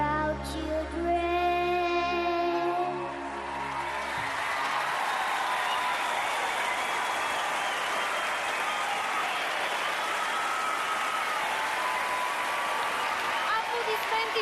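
A live X Factor audience applauds a contestant after his performance. The music's final notes fade into loud, continuous applause and crowd noise that fills the rest of the moment.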